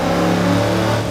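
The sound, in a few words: loud car engine revving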